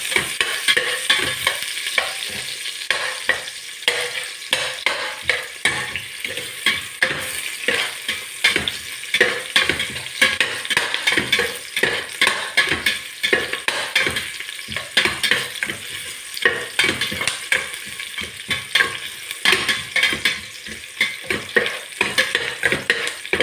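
Garlic fries in a pan for chicken tinola and is stirred until golden, with quick rhythmic scraping strokes over a continuous close sizzle and no talking.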